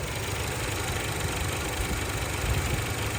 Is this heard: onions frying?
no